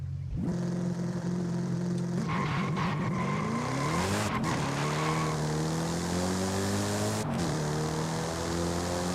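A car in the Forza Horizon 5 video game launches on stock-compound, stock-width tires, its engine revving up through rising gears as a tire squeal streaks across the sound, loud and close throughout.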